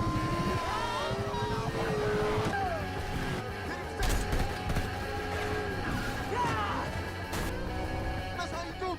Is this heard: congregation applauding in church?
no